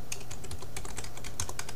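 Rapid, close keystrokes clatter on a computer keyboard as a password is entered, a dense run of clicks with no voice over them.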